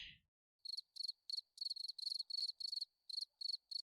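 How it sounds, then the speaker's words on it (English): Cricket chirping as a sound effect: crisp, high, evenly spaced chirp bursts repeating steadily after a brief silence, clean and close with nothing else audible. "Crickets."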